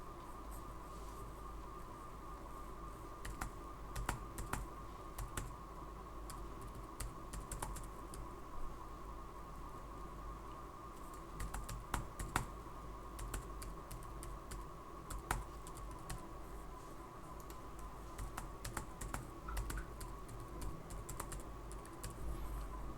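Computer keyboard keys tapped in scattered short bursts while a password is entered, faint and quiet over a steady background hum with no talking.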